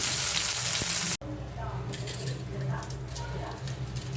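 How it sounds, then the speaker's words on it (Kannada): Onion and green chili frying in a pan for a quick Maggi noodle dish, a close, steady crackling sizzle with occasional stirring, after an abrupt cut from a brighter, louder hiss. "ಇದಕ್ಕೆ ಕೆಟ್ಟ ಈರುಳ್ಳಿ, ಹಸಿಮೆಣಸಿನ್ಕಾಯಿ ಹಾಕ್ಕೊಂಡು ಚೆನ್ನಾಗಿ ಗೋಲ್ಡನ್ ಕಲರ್ ಬರೋವರೆಗೂ ಹುರ್ಕೋಬೇಕಾಗತ್ತೆ"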